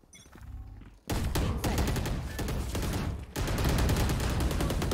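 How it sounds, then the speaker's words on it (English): Gunfire in the video game Valorant: a softer stretch of game audio gives way to sustained rapid-fire shots, loud and close, with a brief dip before the firing resumes even harder. "They're shooting at the wall, bro."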